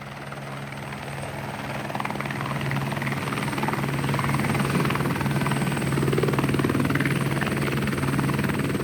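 A helicopter, a rotary wing aircraft, runs steadily and loudly throughout, its rotor and engine drone building slightly after the first two seconds and holding constant with no voices.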